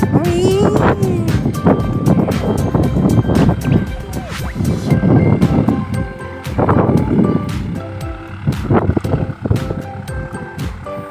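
Outdoor wind buffets the microphone in a steady, loud rumble with gusty surges throughout, mixed with scattered clicks and faint background voices.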